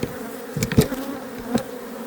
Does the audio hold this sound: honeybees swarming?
yes